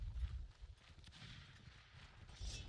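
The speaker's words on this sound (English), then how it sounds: "I hear horses." Cavalry horses approaching during an outdoor line battle reenactment, heard as low, uneven hoof thuds under a busy, noisy field with distant shouting and a possible gunshot crack.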